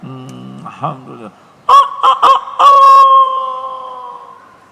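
A man imitates a rooster crowing with his voice, a loud drawn-out cock-a-doodle-doo that rises in choppy bursts and trails off, following a short stretch of his speech.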